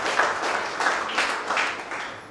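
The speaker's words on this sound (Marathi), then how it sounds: "त्यापैकी डॉक्टर मेघना मल्लाकर यांच्यासाठी एकदा जोरदार टाळ्या" An audience applauds Dr Meghna Mallakar at a school maths competition for National Mathematics Day in Karad, with a brief, dense burst of many hands clapping together that holds steady and then fades slightly.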